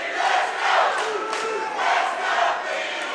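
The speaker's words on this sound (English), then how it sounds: "Crowd chanting along." A crowd chants in rising and falling rhythmic swells at an MMA cage fight, a dense roar of many voices filling the arena.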